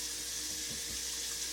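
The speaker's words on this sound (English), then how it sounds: "I've got the cold water running" Cold water runs from a kitchen sink tap in a steady, even hiss that fills the clip, close by and without pauses.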